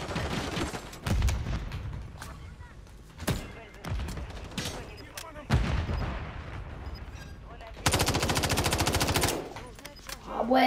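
Automatic weapon fire and explosions from the video game Call of Duty: Modern Warfare 3, bursts of machine-gun shots, booms and a long sustained volley near the end, with someone talking between them.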